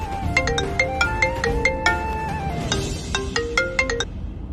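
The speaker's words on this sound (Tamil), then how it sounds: "யாரோட போன் அது?" A mobile phone plays a bright, melodic ringtone, repeating a looping sequence of electronic notes steadily and fairly loudly for several seconds with no talking.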